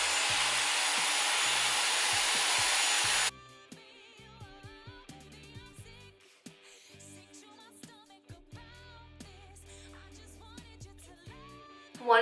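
A Dyson Airwrap hair styler blows with a loud, steady airy whoosh for about three seconds before shutting off, leaving quieter handling clicks and rustles behind.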